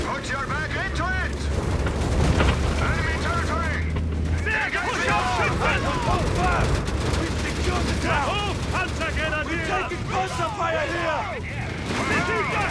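Dense, continuous gunfire, cannon blasts and explosions from a Company of Heroes 3 battle, with shouting soldier voices layered throughout.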